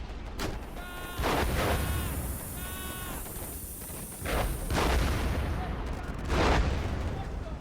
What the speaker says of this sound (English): they're hitting us with an anti-tank artillery